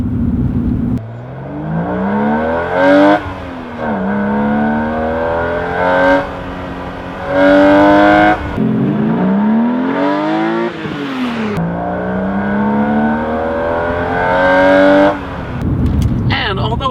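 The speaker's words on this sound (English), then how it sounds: "the Vanos switches, and you can hear the tone and the engine change as well" A BMW E36 M3 engine revs up repeatedly in long rising pulls, its pitch climbing then dropping between shifts, loud and close, with a brief tonal change partway through each pull as the VANOS switches.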